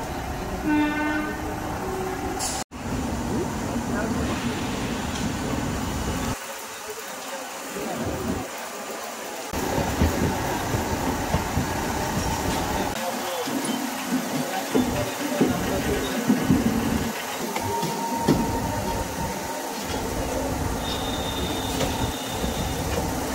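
A train rumbles and clatters at Howrah station platform 14, with a sharp horn blast early on and a steady roar of wheels and carriages throughout, while voices are heard faintly in the busy background.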